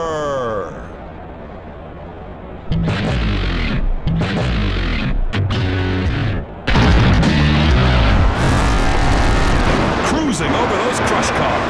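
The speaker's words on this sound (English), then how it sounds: "Cruising over those crush cars." The Bounty Hunter monster truck rolls over crush cars during a 2007 Monster Jam freestyle run, its engine roaring in loud bursts with heavy booming crunches and thuds in an arena.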